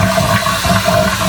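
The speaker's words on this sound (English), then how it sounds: "Let me flush it one more time." A toilet flushed with a heavy-duty Korky Strongarm lever, giving a steady, loud rush of water swirling and draining throughout, close by with no other sounds.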